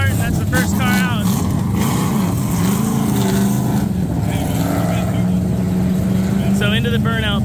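A drift car rolls out for open practice at a Formula Drift Pro 1 event at World Wide Technology Speedway, its engine rumbling and revving under steady crowd and pit noise, with voices heard nearby.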